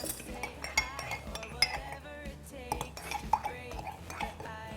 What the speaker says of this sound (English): And then you're going to start mixing that up